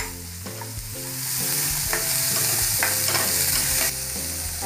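Chopped onions and green chilies sauté in hot oil in a pan for bread upma, giving a loud, continuous sizzle with several scraping stirs of a spoon partway through, and no voices.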